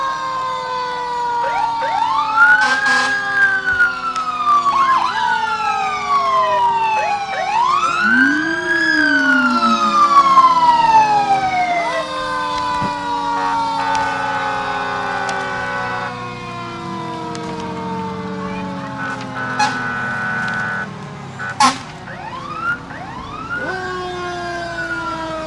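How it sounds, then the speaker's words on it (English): Fire truck sirens from community fire departments passing in a Fourth of July parade, loud rising and falling wails overlapping one another for a long stretch, with engine rumble and occasional horn-like blasts. "We have fire trucks from throughout the communities."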